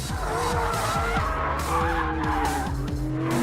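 A McLaren 720S drifting with its variable drift control, the engine roaring loud and close with gear-like pitch steps under a continuous high tyre squeal throughout the slide.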